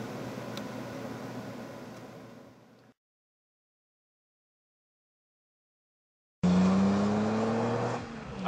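Engine roar and tire noise of a 57 Chevy cab driving, loud and near, cutting to several seconds of silence before the motor drone returns just as strongly.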